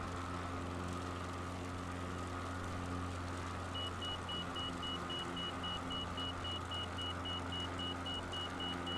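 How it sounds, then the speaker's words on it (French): An overspeed alarm in Microsoft Flight Simulator starts partway through as a fast, steady train of high beeps over a constant aircraft engine drone, with no talk. "Ça, c'est une alarme de survitesse."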